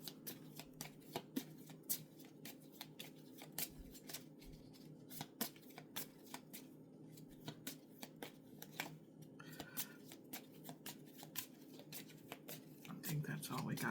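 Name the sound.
shuffling a deck of cards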